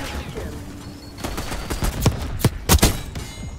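Several loud, punchy shotgun blasts from a video game firefight land close together near the end, booming over a busy background of game noise.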